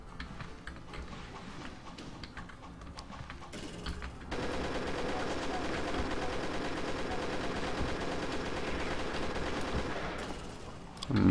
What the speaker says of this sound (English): can put that chain gun to good use